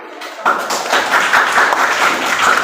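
A classroom of students applauds a classmate's correct answer, a quick burst of close, brisk clapping that starts abruptly and carries on steadily with no talk over it.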